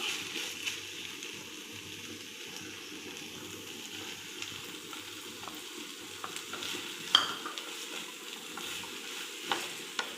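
Okra and softened tomatoes being stirred and fried in a pan for vendakkai pulikari, a soft steady sizzle with occasional spoon scrapes and taps, fairly quiet and without speech.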